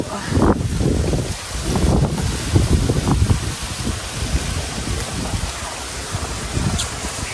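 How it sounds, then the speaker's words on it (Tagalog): Gusty wind buffets the microphone outdoors at a fishpond, rumbling and roaring in uneven waves with a faint watery hiss underneath. "Maginhawa po ngayon dito sa palaisdaan at mahangin po."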